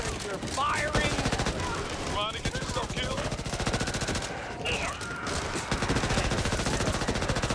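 Rapid automatic gunfire in the video game Back 4 Blood, a dense, continuous string of shots that rarely pauses, loud and close, with a voice speaking over parts of it.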